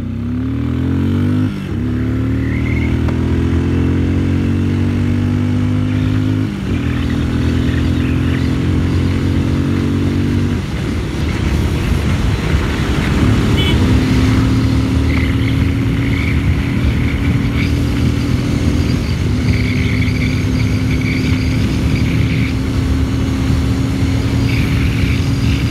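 A 2020 Benelli Imperiale 400 classic-style motorcycle accelerates hard toward top speed, its single-cylinder engine climbing through several gear changes with pitch rising then dropping at each shift, then settling into a sustained loud high-speed drone with wind noise.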